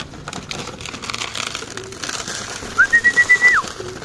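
Racing pigeons coo amid soft rustling at feeding time, a faint textured bed giving way to a clear close run of about five rhythmic coo pulses near the end, with no talking.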